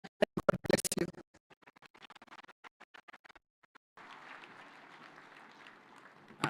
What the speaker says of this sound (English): Another super applause for our host.